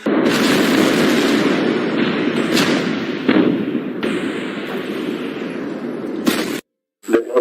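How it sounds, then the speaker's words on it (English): A second massive explosion, likened to an earthquake, rolls out as a loud, sustained rumbling roar that holds for several seconds before abruptly cutting off, followed by a brief burst. "A second massive explosion that some described as like an earthquake."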